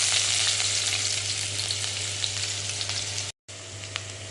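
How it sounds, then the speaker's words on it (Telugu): Sliced onions fry in hot mill oil in a pan, giving a loud, steady, close-up sizzle with crackling spatter that continues without pause apart from one brief dropout near the end. "ఉల్లిగడ్డ వేస్తున్నాను,"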